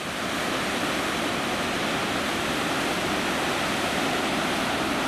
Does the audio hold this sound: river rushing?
yes